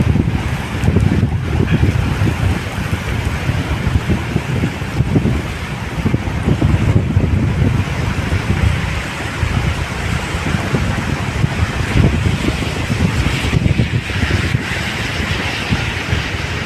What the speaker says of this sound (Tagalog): at malalakas po ang alon